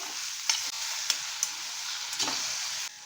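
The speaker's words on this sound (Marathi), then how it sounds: "छान अशी कैरी आपल्याला एक ते दोन मिनटं परतून घ्यायची आहे" Grated raw mango and whole spices sautéing in oil make a steady, soft sizzle, broken by a few sharp scrapes and taps of a spoon stirring in the pan.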